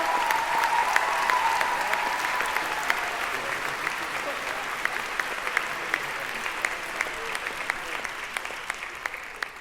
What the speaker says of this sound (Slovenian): Še en aplavz za Natašo.